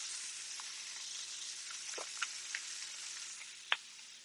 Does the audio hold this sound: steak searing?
yes